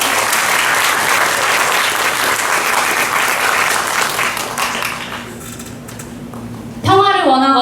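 Audience applause at an outdoor peace gathering marking 69 years of armistice, a loud sustained round of clapping that gradually thins and fades, followed by a voice beginning to speak.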